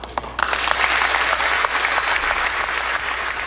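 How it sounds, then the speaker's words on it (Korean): Applause breaks out for a congressman, shot and wounded, returning to the Capitol to speak, loud dense clapping from a large audience that starts after a brief pause and carries on steadily to the end. "그때마다 박수가 나옵니다."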